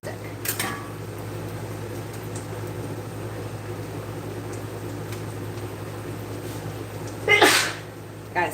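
A single loud sneeze bursts out in a kitchen during cooking, standing clearly above a steady fan or appliance hum, with a fainter burst near the start.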